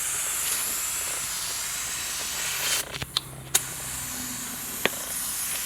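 A spray gun lays a light coat of primer on a Toyota Tacoma bumper at low air pressure: a steady, close hiss with a brief dip partway through and a few faint clicks.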